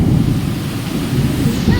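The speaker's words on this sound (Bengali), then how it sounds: "প্রচুর জোর বৃষ্টি হচ্ছে" Heavy rain pours down with a deep, continuous rumble of thunder, loud and steady throughout with no pauses.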